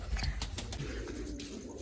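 Pigeons in their coop cooing softly and close by, a faint low burbling over a brief stretch, with quiet voices nearby.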